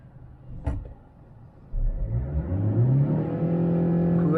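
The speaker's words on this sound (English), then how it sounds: "Well, it revs till 5000 rpm." A Hyundai Creta BS6 diesel with a manual gearbox revs up after a brief click: the engine note climbs smoothly in pitch and holds loud and close, with no talking over it.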